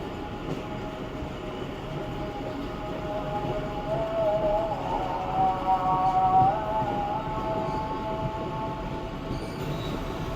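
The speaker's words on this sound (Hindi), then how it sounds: "मल्ली रेलवे स्टेशन पर पहुंच रही है ट्रेन" Rehman Baba Express train rolling through Malli railway station, a steady loud rumble of wheels on track with squealing metallic tones rising in the middle, continuous throughout with no talk.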